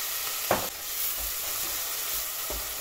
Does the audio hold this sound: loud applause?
no